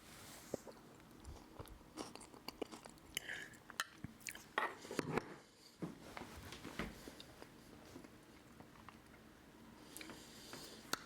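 Someone eating Nepali chukauni with potatoes, basmati rice and sauce, with close, irregular bites, chewing and crunching and the light clink of cutlery against a plate, and no talk.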